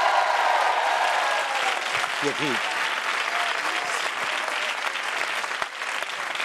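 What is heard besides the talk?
studio audience applause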